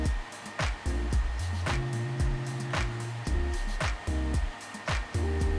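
Electric hair clippers run with the blade fully open at the longest setting, fading an afro blowout, a steady motor hum broken by repeated short passes and dips in pitch as the blade meets hair.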